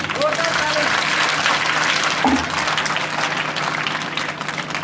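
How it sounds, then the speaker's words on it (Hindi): Ceremony audience clapping at a school blessing function, a dense, fairly loud crowd applause with some faint voices and incidental noises mixed in, tapering slightly toward the end. "एक बार और तालियां बजवाने का मन है भाई।"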